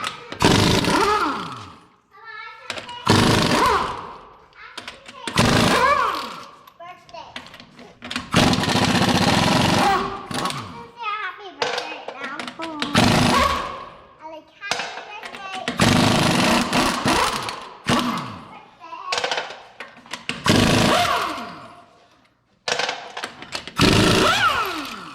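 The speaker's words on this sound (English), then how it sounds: "I like to use the impact because it's way faster, but you can use a ratchet too." Impact wrench removing U-joint bolts on a Dodge 2500 Cummins pickup, firing in repeated loud bursts with short gaps between them. The bursts are close and harsh.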